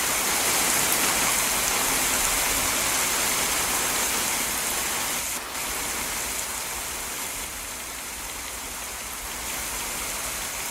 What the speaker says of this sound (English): So now you have rain.